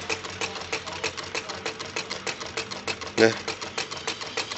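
A homemade Stirling engine runs with a fast, steady mechanical clatter that gradually quickens as heat increases, heard beneath someone talking, with one brief louder knock partway through.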